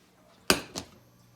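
A pan set down on an induction cooktop in a home kitchen gives a sharp metallic clunk, then a second softer knock a moment later. Both are close and alone against a quiet background.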